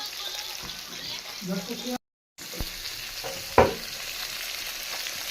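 Fish frying in hot oil, a constant crackling sizzle with a few utensil knocks and a short gap of silence midway, faint voices in the background.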